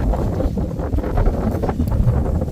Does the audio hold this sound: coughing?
no